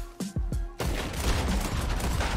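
Rapid gunfire from a semi-automatic pistol in Red Dead Online, a few sharp close shots followed by a dense burst of repeated firing, loud and without talk.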